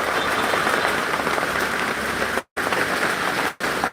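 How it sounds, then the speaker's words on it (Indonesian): Steady heavy rain hisses and patters densely on surfaces nearby, loud and continuous, broken by two brief dropouts. "hujan ini udah lama dinanti"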